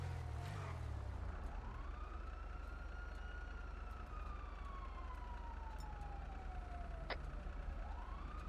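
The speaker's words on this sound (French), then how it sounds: "sirène qui passe autour de la maison" An emergency siren passes near a house, its wail rising and falling steadily against a constant low background hum, distant to moderate and faint, with no talking.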